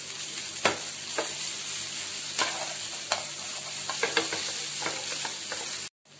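Burmese atho noodles are stir-fried with cabbage and onion, a steady close sizzle punctuated by repeated spatula scrapes and clanks against the pan, ending in a brief cut to silence near the end.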